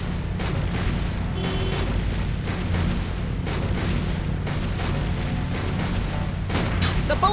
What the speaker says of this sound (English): The bullets have no effect!